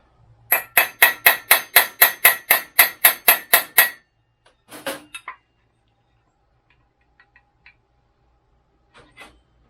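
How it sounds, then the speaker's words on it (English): Roughly a dozen sharp, evenly spaced hammer blows ring out close and loud as roll pins are driven partly out of a motorcycle clutch half on a flexible table, followed by a few softer clanks and taps, then near silence. "And so I want to pound those pins out"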